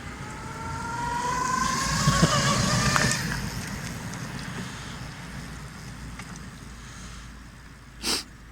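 A Sinclair C5 electric vehicle drives by outdoors, its soft whine and road rumble swelling as it nears and fading away, with wind noise throughout and a sharp knock near the end.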